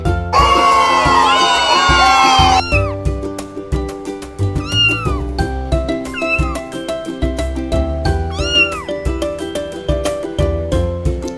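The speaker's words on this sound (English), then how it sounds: "C for cat." A cat meows repeatedly in a children's alphabet song, several rising-falling meows over a bouncy musical backing, loud and close, after an opening burst of crowd-like cheering and shouting.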